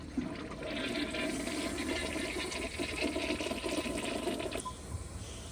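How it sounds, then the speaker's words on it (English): A 1994 Kohler Wellworth Lite elongated toilet flushes with a loud, steady rush of water close by, easing off near the end as the bowl drains. "I'm just gonna give it one more flush and see what happens"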